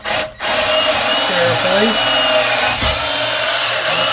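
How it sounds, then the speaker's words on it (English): A power drill bores at an angle into a wooden baseboard, with a loud, continuous whine close by after a brief start, and a voice speaks briefly early on. "Take your drill bit about an inch up, let's say, into your baseboard, and drill it at an angle"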